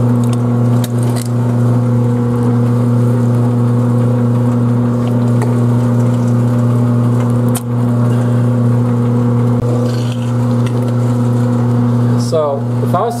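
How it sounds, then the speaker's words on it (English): A pump runs steadily while maple cream is being made, giving a loud, constant motor hum with strong tonal drone and a few brief clinks and knocks. "if I was to stop this pump right now"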